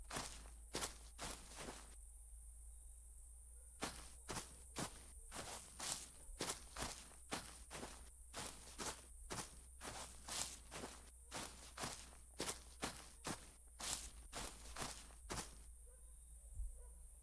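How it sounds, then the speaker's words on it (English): Footsteps crunch through grass in the dinosaur park game The Paddock, a long run of quick, regular steps with a few short pauses, loud and close over a low steady hum. "I don't like how loud the footsteps are in the grass"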